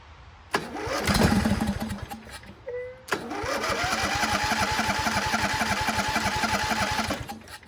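An old riding mower that had sat unused for years cranks over repeatedly while its fuel pump is tested: a close, loud, rhythmic starter churn with a brief pause, then longer steady cranking without catching.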